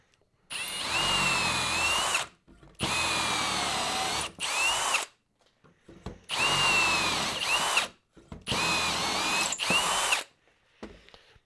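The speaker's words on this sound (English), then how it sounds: "I'm just going to go ahead now and start making some dowel holes" A power drill bores dowel holes in wood for a DIY sit-and-step stool. Four long, loud whirring bursts of about two seconds each come close by, split by short pauses and brief starts and stops, with no voices.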